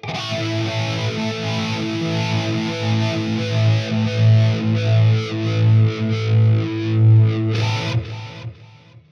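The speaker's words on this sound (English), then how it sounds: "the flanger mono, this is as slow and deep as it gets" A distorted electric guitar chord rings out through a Fender Tone Master Pro mono flanger at its slowest, deepest setting, whooshing, swelling and receding rhythmically before fading.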